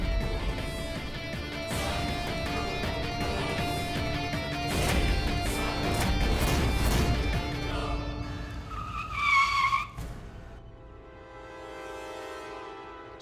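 A car on a road in a Hindi TV drama skids to a stop with a sharp tire screech near the end, rising over a dense background of music and road noise, then settling to a quieter hum.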